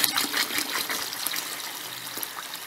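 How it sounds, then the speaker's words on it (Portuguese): Four liters of water poured into a container, a steady splashing gush that gradually settles into a softer trickle, close and moderately loud. "Eu vou colocar aqui 4 litros d'água"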